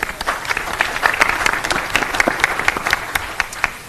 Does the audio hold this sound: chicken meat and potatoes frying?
no